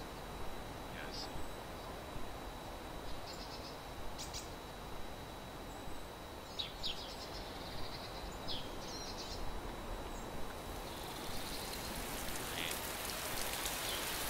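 Steady rain falls in a video game zombie survival setting, a soft continuous patter with scattered bird chirps and faint tones above it, fairly quiet and even throughout.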